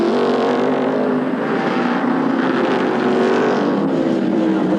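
Race car engine held at full throttle with a jammed throttle, a loud, steady high-pitched roar with some crowd or wind noise beneath, sustained without a break.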